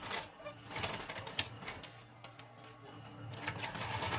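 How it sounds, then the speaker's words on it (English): Sewing machine stitching a seam on a simple homemade backpack, producing a continuous muffled mechanical chatter at moderate distance with a brief pause in the middle. "I'll stitch right here."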